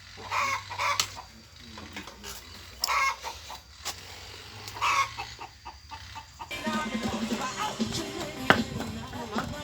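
Chickens cluck in bursts around an outdoor rural Thai cooking spot where rice and chicken are being prepared, with scattered clatter and a faint voice in between.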